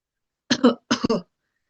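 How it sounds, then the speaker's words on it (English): Two short, rough coughs in quick succession, close and fairly loud, followed by silence, in black smoke from a lawnmower. "coughs because the smoke smells bad"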